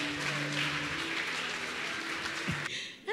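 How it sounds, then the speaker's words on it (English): Audience clapping at a Kenyan church gathering, a dense wash of many hands clapping steadily with a faint tonal hum beneath, cutting off abruptly near the end. "Clap your hands for Jesus."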